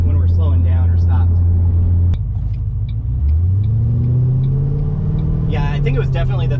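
A supercharged 3V Ford Mustang GT with a swapped 6R80 automatic transmission, heard from inside the cabin while driving. A loud, steady low engine drone drops in pitch, then climbs again as the revs change, with brief voices at the start and end.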